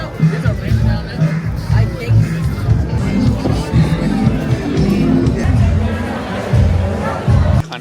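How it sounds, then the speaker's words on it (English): A dense, loud crowd at the Coney Island Polar Bear Plunge fills the air with overlapping chatter and babble, with nearby voices talking over it. "To get away from the crowd a little bit just because it's getting very loud"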